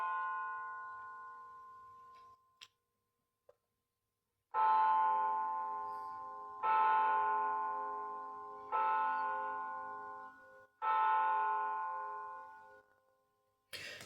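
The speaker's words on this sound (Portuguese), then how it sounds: "Eu vou deixar que passe o sino." A church bell tolls during a sermon, ringing out four slow, resonant strikes a couple of seconds apart, each decaying gradually. A fainter tone rings before them, and the preacher stays silent while it sounds.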